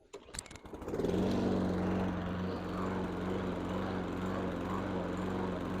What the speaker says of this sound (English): I'm going to start the mower up